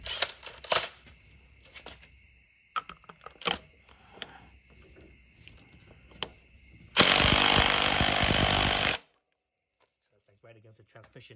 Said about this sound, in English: So I'm gonna use my impact driver.